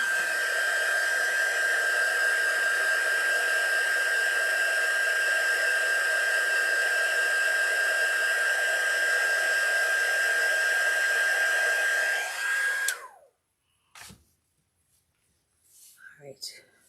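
A hair dryer blows steadily and loudly for about thirteen seconds, drying paint on a light-up tea light word ornament, then cuts off abruptly, leaving quiet handling noises and brief speech.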